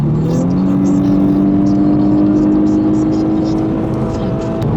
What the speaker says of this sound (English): the car gets a little bit louder, you have a little bit more power